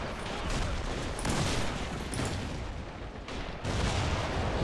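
Mortar fire and explosions in the strategy game Valkyrie Mod, with mortars being spammed across a built-up map: a dense, rumbling barrage of distant booms and crackling blasts, steady and fairly loud throughout.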